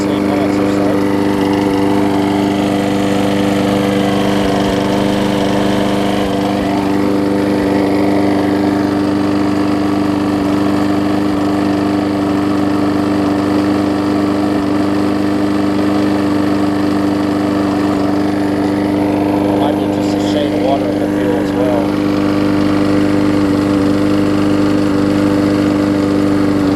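A Husqvarna lawn mower with an aluminum deck, in need of a tune-up and carburetor work, runs steadily and loudly up close, its engine drone holding even with slight skips throughout, with a voice talking over it.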